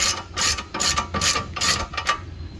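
A hand ratchet fitted with a 14mm socket tightens a bolt on a car's driver-side axle assembly, giving repeated bursts of close, crisp clicking in a steady rhythm with brief pauses between strokes.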